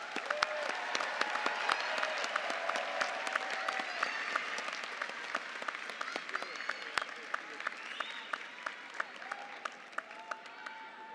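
A university commencement audience applauds graduates with sustained, dense clapping and a few louder individual claps. It fades slightly toward the end, and faint voices come through underneath.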